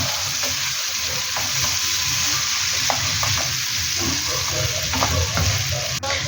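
Gravy and mixed vegetables being stirred together in a pan, with a steady, dense sizzle and repeated spoon scrapes close by, no voices.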